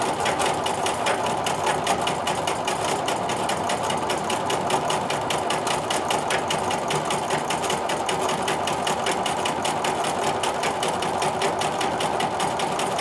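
Sewing machine stitches a maze filler quilting design inside grid triangles, running steadily and continuously at close range with a fast, even whir throughout.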